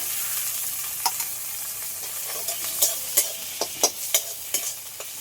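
Shrimp and dried red chillies fry in hot oil with a constant soft sizzle, broken by sharp spattering pops and stirring clicks at irregular intervals, with no talking.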